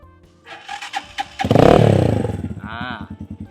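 A 2020 Stallion SM150 motorcycle engine fires up and revs loudly through its exhaust, then drops to a steady, rhythmic putter at idle.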